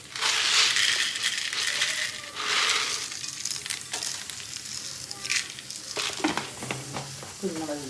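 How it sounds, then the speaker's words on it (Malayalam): Ginger, garlic and shallots sizzle steadily in a hot frying pan, with bursts of stirring, scraping and light clinks as the ingredients are tossed; no one speaks. "നമ്മളിത് ഇഞ്ചി വെളുത്തുള്ളി ചെറിയ ഉള്ളി ഇതിടുക. ഈ വറക്കണയിലേക്ക് അത് ഇടണം."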